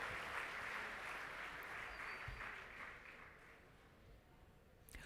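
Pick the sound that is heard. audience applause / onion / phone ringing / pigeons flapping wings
audience applause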